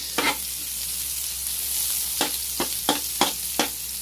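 Garlic and onion sauté in a hot pan for a Filipino dinuguan, a continuous bright sizzle punctuated by several crisp spatula scrapes toward the end, close and with no talking.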